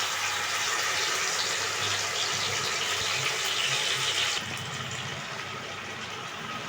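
Bowl-rinsing water pours into a pot of Bengali raw-mango rohu fish curry, a steady close splashing rush that softens a little near the end.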